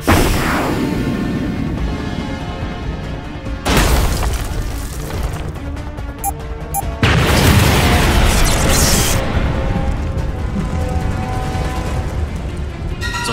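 Huge bomb explosions in a Skibidi Toilet animation, with two or three loud booming blasts followed by rumbling, rolling debris and a sustained roar in between, no talking.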